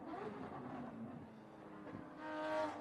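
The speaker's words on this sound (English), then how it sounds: "Here comes the Porsche again." A Porsche race car on a track is heard faintly at a distance, its engine tone rising and swelling as it passes.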